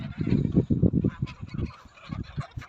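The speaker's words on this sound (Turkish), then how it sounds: "Gördünüz mü arkadaşlar gazlara? Gazlar büyüdü." Geese in a home garden honk and gabble in a dense, overlapping chorus close by, loud throaty calls without pause.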